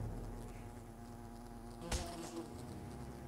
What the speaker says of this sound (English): I mean, they're just wasps, just leave.